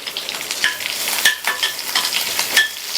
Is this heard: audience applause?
no